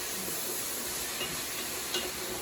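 Sweet and sour pork sauce made with crushed pineapple gets stirred in a pan, giving a steady soft hiss and faint scraping that runs evenly throughout with no talk.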